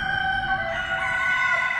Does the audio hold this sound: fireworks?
no